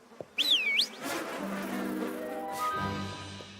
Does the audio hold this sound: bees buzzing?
yes